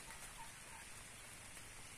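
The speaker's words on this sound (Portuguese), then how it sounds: "Começou a chover." Rain falls in Paraíba, Brazil, a steady hiss of drops on surfaces, faint and distant, with no voices.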